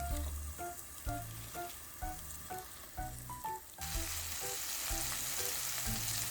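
Flour-dusted marinated meat fries steadily in a pan over medium heat, a continuous sizzle running throughout over a tonal background of music, with the crackle swelling louder and denser in the second half.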